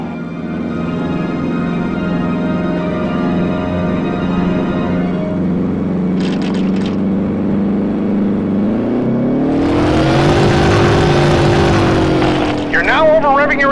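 Fighter plane engine in the PS2 game Heroes of the Pacific, a steady drone that surges into a louder, rising roar as the war speed boost kicks in, with a voice talking over the engine.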